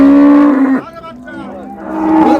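Several cows moo loudly at Raniganj cattle market in Dinajpur, where dairy cows and calves are sold. Long, harmonic bellows come up close and overlap in the busy market noise.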